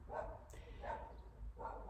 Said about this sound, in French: c'est pas mon chien là